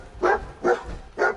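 A dog in the video game Fallout 4's Nuka World barks three times in a steady rhythm, loud and close, with faint ambience underneath.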